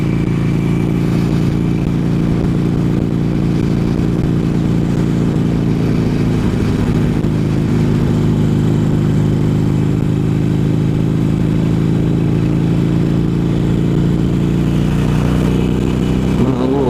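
Steady motorcycle engine drone while riding on a cool Las Vegas evening, loud and continuous throughout with wind noise and slight shifts in revs, no talk.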